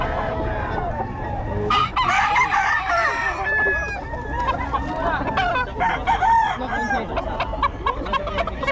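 Roosters crow repeatedly over a busy mix of clucking fowl, close and loud, with faint voices in the background.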